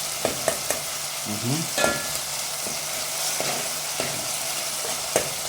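Tomato paste and omena, small fish, are stirred in a hot pan. A low, continuous sizzle runs throughout, broken by sharp scraping taps of the utensil against the pan at irregular intervals.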